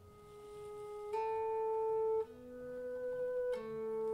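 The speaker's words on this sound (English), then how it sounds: "Okay, this is an ebow, and this device uses magnets" Acoustic guitar played with an ebow magnetic device, giving smooth sustained notes that swell in without a pick attack and glide between a few held pitches, with no talking.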